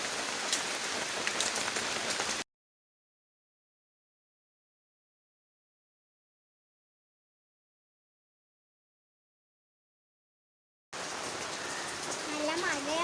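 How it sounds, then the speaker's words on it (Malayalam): Heavy rain falls in a dense, steady hiss of drops on surfaces, heard at the start and again at the end with a long stretch of silence between. "നല്ല മഴയാണ് ഇവിടെ."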